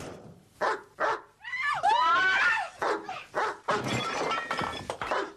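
A huge Alsatian dog barks loudly and close in several sharp bursts, joined by a long howling yelp and crashing, chaotic noise at a dog show.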